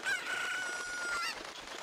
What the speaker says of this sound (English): what we're going to need here is our little chicken friend